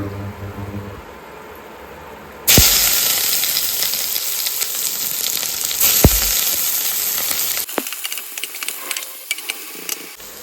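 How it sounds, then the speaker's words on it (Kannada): Chopped onions and garlic sizzle loudly in hot oil in a pan, a steady bright frying hiss with occasional stirring scrapes, easing off near the end. "ಈರುಳ್ಳಿ ಆ್ಯಡ್ ಮಾಡಿದ ಮೇಲೆ ಈ ಥರ ಚೆನ್ನಾಗಿ ಫ್ರೈ ಮಾಡ್ಕೊಳ್ಳಿ"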